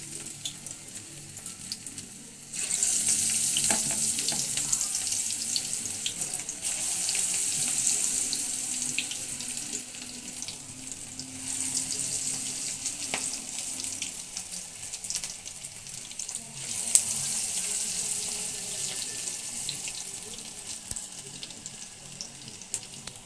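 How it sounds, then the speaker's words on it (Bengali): Pakoras sizzle in very hot oil, a steady broadband hiss that starts a few seconds in and continues for about twenty seconds, close and fairly even with no talking. "পকোড়াগুলো তেলে দিয়ে দিয়েছি, আস্তে আস্তে ভাজা হচ্ছে।"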